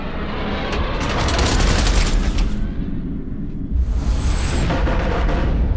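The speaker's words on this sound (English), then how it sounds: "Eduardo, concentrate artillery fire on Blakemore's carrier" Artillery fire in the space-combat game Everspace 2: loud, booming, crackling explosions that swell and fade in waves over a constant deep rumble.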